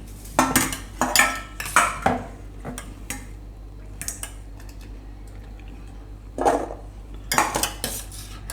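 Metal utensils scrape and clink against a plate or bowl in quick bursts while corn kernels are stripped from the cob, close by with short pauses between strokes.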